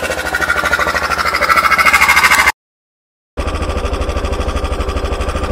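A Stels 400GS motorcycle engine running steadily with a rhythmic, loud thumping idle, briefly cutting to silence before resuming at the same even pulse.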